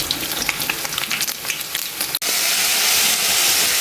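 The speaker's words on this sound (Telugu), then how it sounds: "ఇట్లా ఈ పన్నీర్ గోలించు" Paneer frying in a pan gives a loud, close, continuous sizzle with crackly spatters. A brief cut is followed by a smoother, steadier hiss, and no one speaks.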